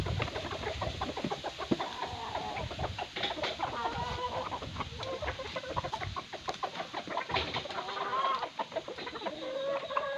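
A group of gamecocks and a wild junglefowl clucking and pecking busily at feed, overlapping soft clucks and chatter close by, continuous and lively.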